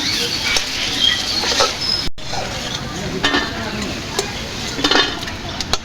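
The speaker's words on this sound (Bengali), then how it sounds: "প্রথমের বড়াগুলো ভাজা হয়ে গেছে" Lentil fritters (bora) frying in oil make a steady crackling sizzle with brief spattering bursts and light stirring, close and continuous throughout.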